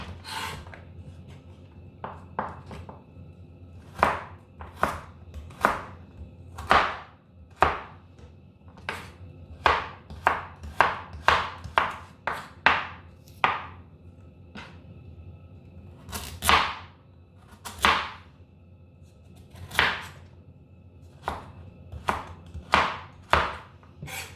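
A knife cutting carrots into batons for a stir-fry of French beans and prawns: a long run of crisp, close chopping strokes on a board, some in quick clusters and some spaced apart, with no talk.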